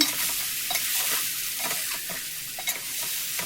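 Fish pieces frying and being stirred in a pan of seasoned oil for a fish curry, with continuous close sizzling and scraping stir sounds throughout.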